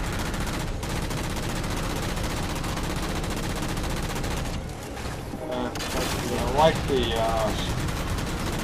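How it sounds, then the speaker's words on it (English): In the Halo 4 campaign, a Mantis mech fires guns and rockets at Promethean Knights, producing dense, continuous rapid gunfire and blasts with sci-fi weapon effects, loud and close, with someone talking over the combat. "now I'm working on these 2 Promethian Knights, again with a combination of guns and rockets"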